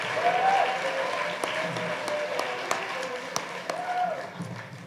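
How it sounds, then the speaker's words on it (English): A banquet audience gives its sports coaches a sustained round of applause, dense steady clapping that swells at the start and holds at an even level, with a faint whistle and voices mixed in. "Let's give all of our coaches one more round of applause."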